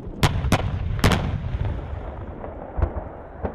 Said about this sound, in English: it all pays off once you pull that trigger and squeeze the main gun off